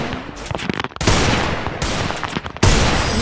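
Gunfire in a video game shooter, dense automatic bursts of rapid shots in several loud close volleys separated by short pauses.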